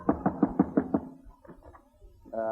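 Six quick, evenly spaced knocks on a door, followed by a muffled voice.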